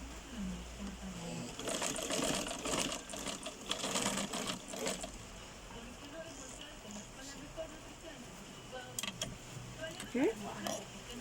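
A sewing machine stitching fabric along a diagonal line runs in two short bursts of rapid mechanical chatter, with quieter handling clicks between them and someone speaking in the background.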